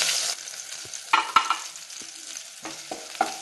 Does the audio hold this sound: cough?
no